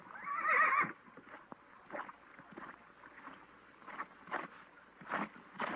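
A horse whinnies loudly at the start, followed by soft scattered snorts and shuffling sounds with quiet background noise.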